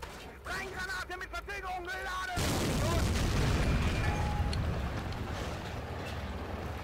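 A tank cannon fires in the Steel Fury: White Tiger game, one sudden heavy boom after a few quiet voice-like moments, then a loud rolling rumble that slowly tails off.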